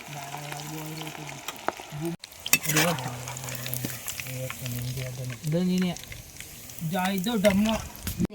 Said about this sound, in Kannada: ಇವಾಗ ಕಬಾಬ್ ಹಾಕ್ತಾ ಇದ್ದೀನಿ